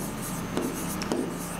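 Chalk or marker strokes on a board during a grammar lesson, two short scratchy rubs close by over a steady background hum.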